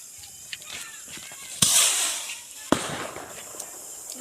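Firecrackers at a village Diwali celebration: two sharp, loud bangs a second apart with crackling and hissing tails, plus smaller pops and faint background voices.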